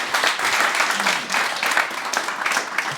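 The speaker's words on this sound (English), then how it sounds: "So can we have a big round of applause for Will Rees?" A live event audience claps for a speaker taking the stage at a money-focused talk, dense and fairly close, swelling and easing in waves for a few seconds.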